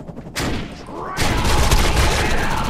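Vopblast rifle firing in the video game Defiance: after a brief lead-in, a loud, continuous burst of rapid gunfire begins and fills the rest of the moment.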